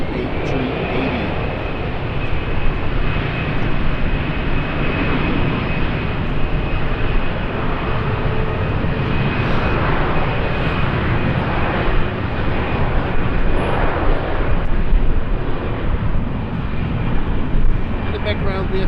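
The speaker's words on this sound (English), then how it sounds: "I also wanted to show you guys the beauty of the A380." Airbus A380 jet engines at Schiphol airport in fog, a loud, steady broadband roar that holds through the whole stretch with a faint high whine on top.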